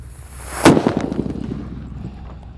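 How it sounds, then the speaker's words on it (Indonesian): A paper-wrapped firecracker goes off outdoors during a Ramadan-to-Eid celebration. It gives one sharp, loud bang followed by a brief crackling, rumbling tail that fades over about two seconds, with no talking. "Di sini ada mercon buntelan kertas yang kedua."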